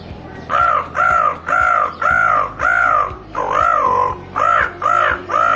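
A voice imitating a crow, nine loud harsh caws in a fairly steady rhythm with short gaps between them, heard alone and close.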